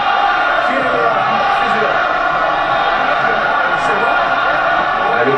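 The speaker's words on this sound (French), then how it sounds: "Et entendez la foule" Irish Connacht supporters roar without a break at a 2010 Amlin Challenge Cup rugby semi-final against Toulon, a loud, dense stadium crowd with whoops and bellows mixed in.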